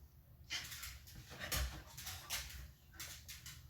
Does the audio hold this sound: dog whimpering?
yes